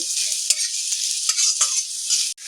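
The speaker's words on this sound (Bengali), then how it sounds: "চিংড়ি মাছগুলো দিয়ে এইভাবে মিডিয়াম আঁচে একটু ভাজা ভাজা করে নেব।" Prawns frying on medium heat in a pan for a taro-and-prawn dish give a steady, loud, close sizzle, broken by a few sharp scrapes as they are stirred. No voices are heard.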